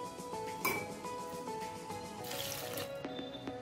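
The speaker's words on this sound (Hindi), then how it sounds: "पानी में भिगो कर रख देंगे।" Soft water sloshing and light trickling as fresh fenugreek (methi) leaves are soaked in a bowl of water in a home kitchen, with faint clinks under a low steady hum.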